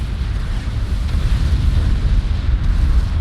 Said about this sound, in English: trying to avoid that, that fire breath